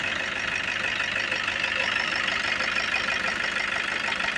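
Close up, a Toyota Hilux diesel engine idles in a constant, unbroken drone with a faint knocking texture.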